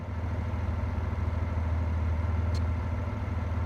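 A DB BR 363 diesel shunting locomotive in Train Sim World, its engine idling and revving with a low, steady pulsing throb close by, plus a brief high chirp partway through.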